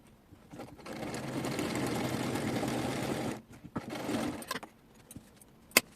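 A SIGMA sewing machine stitches the folded corners of a small fabric gift basket, running in a steady mechanical whir for a few seconds, then stopping, followed by some light handling clicks.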